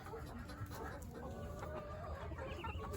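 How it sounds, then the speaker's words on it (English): A brown leghorn cross hen clucking among a backyard flock, giving soft, repeated clucks against a steady low background murmur, with no talk. "That has to be a brown leghorn crossed with a cream leg bar or an Easter egg."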